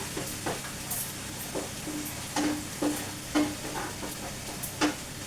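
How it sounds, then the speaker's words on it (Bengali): Spice paste for raw banana kofta sautés in a pan, a low continuous sizzle broken by several distinct scraping and clinking stirs of a spatula, close and moderately quiet, with no speech. "এবার এটাকে একটু সতে করে নিয়ে তারপরে আমি পরের মশলাগুলো দেব।"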